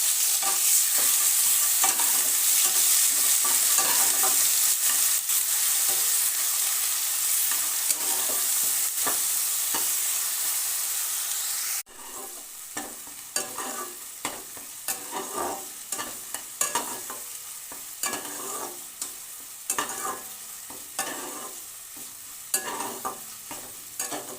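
Spoon stirring eggplant in a pan after a ground paste of mustard, poppy seed, green chili and coconut goes in; steady sizzling frying with repeated scraping clicks, loud at first, then quieter with distinct stirring taps, no talking.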